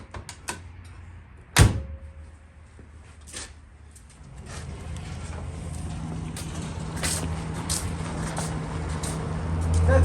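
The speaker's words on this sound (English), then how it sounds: "We're gonna move the door now. It closes like that." Door of a rusty Volkswagen Beetle being worked in a dune buggy restoration shop, giving a sharp single slam-like thump near the start followed by softer handling clunks and a rising background rumble.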